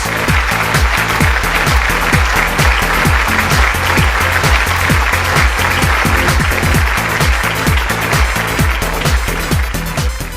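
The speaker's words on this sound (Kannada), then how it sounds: "ಸೊ 3 ಜನ ಜಡ್ಜಸ್ಗಳಿಗೆ ಜೋರಾದ ಚಪ್ಪಾಳೆ ಬರಲಿ." Loud, dense audience clapping at a dance reality show stage event as judges are welcomed, a continuous rhythmic wash of applause sustained throughout.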